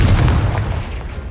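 A Confringo fire spell blast from the game Hogwarts Legacy, a loud, booming explosion with a heavy low-end rumble that hits immediately and decays over about a second.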